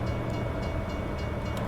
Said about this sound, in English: Can we see the train? Oh, there's a train.